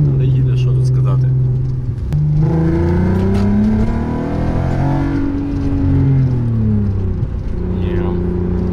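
An old Audi TT with a faulty airbag and traction control drives along, its engine note rising and falling through gear changes, with rattling and someone talking over the cabin noise.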